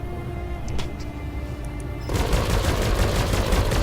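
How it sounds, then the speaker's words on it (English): An AC-20 autocannon fires at a Shadowhawk mech in the BattleTech video game, with a dense, loud burst of heavy gunfire breaking in halfway through over a constant low mechanical rumble. "I'm disabling the 2 medium lasers as well and just firing with the AC-20"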